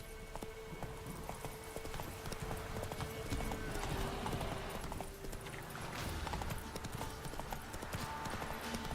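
Horse galloping in The Witcher 3 game: fast, continuous hoofbeats clip-clopping under steady game ambience, with a faint whinny, sustained throughout at moderate level.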